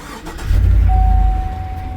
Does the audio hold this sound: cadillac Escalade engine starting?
yes